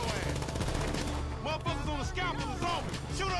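Gunfire in Grand Theft Auto V, bursts of shots running through a busy mix while players talk loudly over the action.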